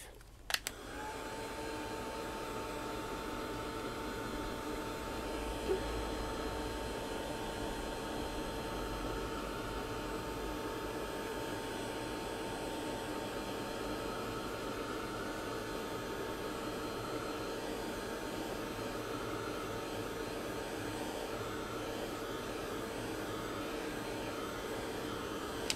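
A heat tool runs steadily, drying a mixed media piece made with the pitted technique: a continuous close blowing whoosh with a steady whine, starting at once and carrying on unbroken, with no talking.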